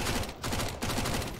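Rapid gunfire in CS:GO, heard as a steady, loud stream of closely spaced shots with brief gaps.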